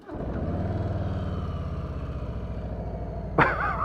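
A brand new 2020 Harley-Davidson Softail Street Bob cranks and fires, settling into a loud, close, lumpy idle with a steady throbbing pulse, then a short sharp blip of the throttle near the end.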